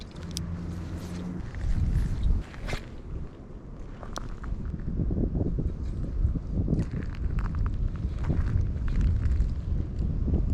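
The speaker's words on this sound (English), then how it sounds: "that wind ain't messing around" Strong wind buffets the microphone in low rumbling gusts at an outdoor winter fishing hole, with occasional thumps and scraping noises, and no one speaking.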